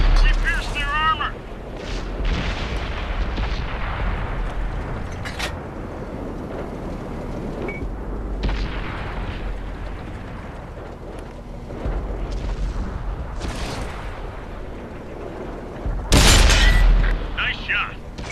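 The Nashorn German tank destroyer's gun fires in World of Tanks, a loud, heavy boom with a sharp crack near the end, amid rumbling engine and battle noise with someone talking over it.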